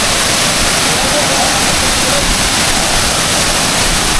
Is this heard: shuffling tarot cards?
no